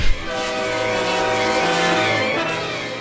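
A train rolls past with a steady rumbling drone and sustained horn-like tones held throughout, loud and close, with no voices.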